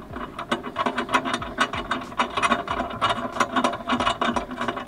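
A hand ratchet clicks in quick, steady bursts while lug nuts are snugged down on a Sprinter van's rear tire carrier, close and crisp with no talking.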